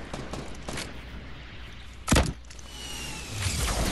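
Gunfire in a Fortnite squad match: a few scattered game shots, one sharp loud burst near the middle, then a denser rising patter of shots toward the end.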